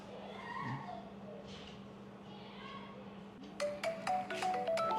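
A mobile phone ringtone chimes in a home, entering late as a repeating bright melodic tone over low background hum after a few seconds of quiet room noise.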